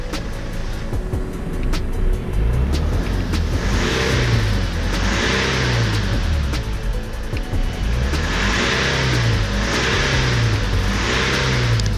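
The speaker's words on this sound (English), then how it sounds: "You can hear the car still missing. Still hunting on the revs sometimes." A BMW 320d diesel engine with a faulty glow plug idles roughly and rises and falls in repeated surges, misfiring, the revs hunting up and down with an uneven, stumbling note, loud and close.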